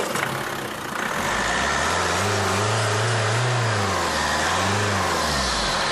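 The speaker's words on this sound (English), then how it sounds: "This test model packs a 96-kilowatt ecoFLEX diesel motor" Opel Astra with a 96-kilowatt ecoFLEX diesel engine running steadily, its low engine note rising and falling through a few revs, loud and close, with no talking.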